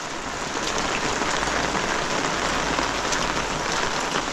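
Heavy monsoon rain pours steadily over a Konkan village, a dense, even hiss of drops drumming on surfaces close by, loud and unbroken with no voices.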